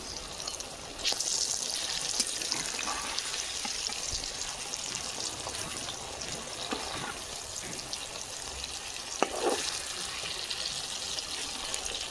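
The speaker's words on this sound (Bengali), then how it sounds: "কড়াতে সর্ষে তেল দিয়ে দিচ্ছি তেল গরম হয়ে গেছে বড়া দিয়ে দেবো" A steady hiss and crackle of green plantain fritters frying in hot mustard oil runs throughout, with a few faint clicks and clatters on top.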